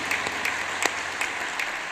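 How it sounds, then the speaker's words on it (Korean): Congregation applause at a church fasting revival service, a steady wash of many hands clapping throughout with a few sharper claps standing out, moderately loud and without talk. "우리 다시 한번 하나님께 감사의 박수로 영광을 돌리겠습니다"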